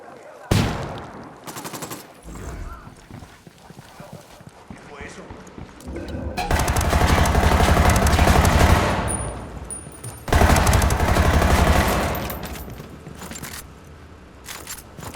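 Gunfire in the video game Ghost Recon Wildlands: sharp shots and dense automatic bursts come in two long, loud stretches with sparser pops between them, and voices talk at times.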